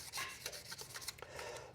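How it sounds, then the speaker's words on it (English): 1000 grit sandpaper rubbed across a handmade jaw harp to keep it flat, a close, quiet rasping scrape in quick back-and-forth strokes. "I can take that 1000 grit sandpaper and even hit my embouchure areas."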